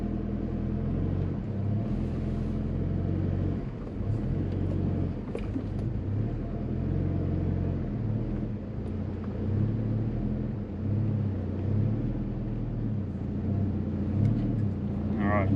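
An off-road 4x4 truck with a front diff locker creeps forward, its engine a steady low rumble throughout, with someone speaking over it.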